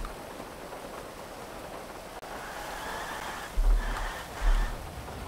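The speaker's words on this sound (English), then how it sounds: "Can someone make it day with no rain?" Rainy weather in a video game gives a soft, steady hiss of falling rain, with a couple of dull low thumps near the end.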